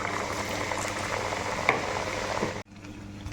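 Dal puri frying in hot oil, a dense bubbling sizzle heard up close that cuts off abruptly near the end, with no talk.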